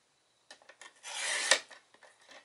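A sheet of Early Espresso cardstock is cut with a paper trimmer, a few light taps then one smooth sliding rasp ending in a click, quiet and close, with no voices.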